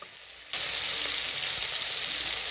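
Eggplant and fish hit hot oil in a pan, a sudden loud sizzle that bursts in and holds steady as a close, continuous crackling fry.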